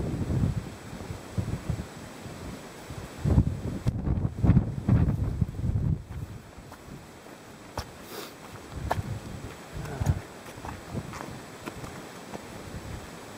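Wind gusting across a mountain summit camp on Beinn na Lap, a rough, buffeting roar against the microphone that swells and fades in uneven gusts, louder for a few seconds before easing, with no talk.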